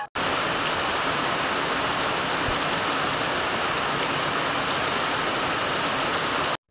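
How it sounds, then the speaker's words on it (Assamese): Heavy rain falling outside on a wet morning, a constant loud broadband hiss that runs unbroken through the whole stretch before cutting off. "দেখিছেনে ইমান বৰষুণ দি আছে।"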